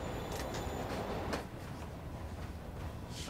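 Train moving in the Marvel's Spider-Man video game, a steady rumbling rail drone with faint clacks and hissing bursts, no talking.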